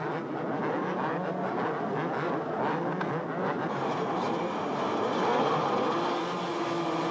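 Motocross bikes revving their engines at the starting gate before the first moto of a 1995 race, a dense, steady roar of many engines blended together with no talk over it.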